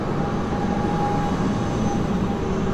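A steady low rumble of a tram rolling past on a street in Bern, Switzerland, continuous and fairly close, with a faint high whine running through it.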